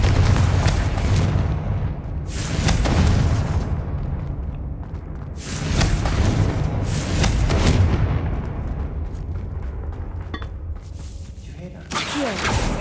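Booming spell blasts from the Confringo curse in Hogwarts Legacy burst out loud and near, three or four heavy explosive surges with crackling tails spaced a few seconds apart inside a tomb, voices talking between them.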